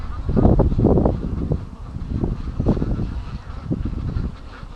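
Muscovy ducks returning from the bush toward their pen, a cluster of low, breathy calls and murmurs close by in uneven bursts, with no talking.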